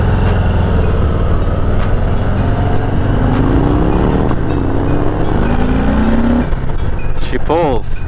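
A 2021 Harley-Davidson Heritage Classic with the 114 engine under way: a loud, steady engine roar with several rising pitch sweeps as it accelerates, mixed with rushing wind noise throughout.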